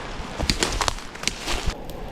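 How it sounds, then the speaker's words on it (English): Birds calling outdoors in a cold forest by a river, a series of short bright chirps scattered over about two seconds against a steady outdoor hiss, fairly close and moderately loud, with no talking. "Birds sound nice."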